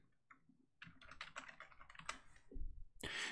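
Close, quiet typing on a computer keyboard, a rapid irregular run of key clicks ending in a heavier thump and a final clack, with no talk.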